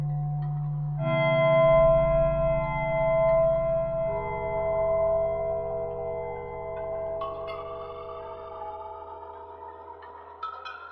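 Eerie Minecraft music disc opens with a low droning melody and sustained tonal hums, later joined by faint metallic chimes and a brief clank near the end, with no voices.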